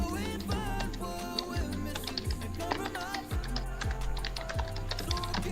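Fast, steady typing on a mechanical keyboard with blue switches, sharp clicky keystrokes close up, with faint talk in the background.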